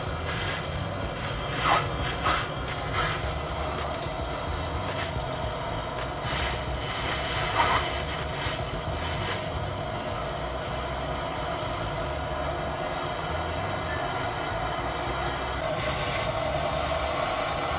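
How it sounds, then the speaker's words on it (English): A torch welds the copper pipe joint of a double door chiller, producing a steady hissing roar with faint scattered clicks and scrapes, continuous and close for nearly eighteen seconds, with no voices. "Now I'm going to weld the joint point."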